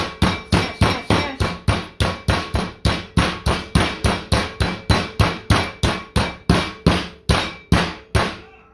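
A steak wrapped in plastic is pounded flat with a rapid, steady series of about thirty loud, close thwacks, each sharp hit fading quickly before the next.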